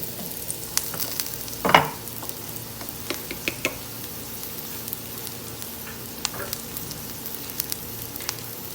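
Tomatoes fry steadily in a pan for a homemade pizza, with a continuous close crackle and sizzle and a few louder pops and spatters. No one speaks.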